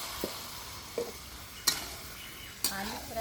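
Small boiled potatoes fry with masala in oil over a clay stove, a soft constant sizzle broken by four sharp scrapes and clanks of a spoon against the pan, close by, without speech.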